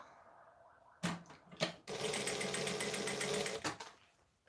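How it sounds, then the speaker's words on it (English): A sewing machine runs a line of topstitching at a long decorative stitch length on a crossbody bag, starting after a quiet pause with a couple of short bursts before a steady, close, fast whir of several seconds that then stops. "up to a decorative stitch length, and I'm going to top stitch along here."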